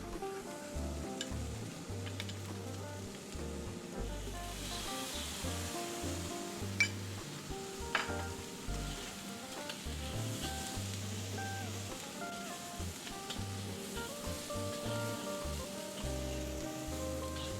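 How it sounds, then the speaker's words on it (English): Sauce hits a hot pan of Penang nyonya-style fried rice with shiitake mushrooms, raising a soft, steady sizzle with scattered crackles and pops, close but quiet, and no talking over it. "I'm gonna add a little bit of the sauce."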